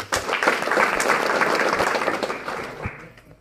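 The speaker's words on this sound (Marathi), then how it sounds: "मिस्टर राजेंद्र पोलादे सरांसाठी एकदा जोरदार टाळ्या।" An audience at a business seminar bursts into loud, sustained applause, dense clapping that swells quickly and fades over a few seconds.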